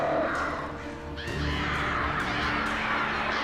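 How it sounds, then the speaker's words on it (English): Crows caw in several harsh calls over a dense, rumbling ambient backdrop in the video game Alan Wake, the cries overlapping and fairly close. "I hear birds."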